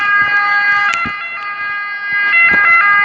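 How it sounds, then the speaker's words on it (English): An ambulance siren wails in a steady, loud, high-pitched tone that holds for several seconds, with a few faint knocks and thumps underneath. "That's an ambulance."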